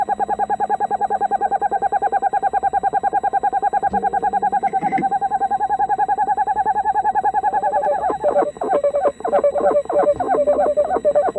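An owl gives a long run of rapid, throbbing hoots. The calls are loud and close, repeat steadily for several seconds, then break into looser, uneven notes near the end.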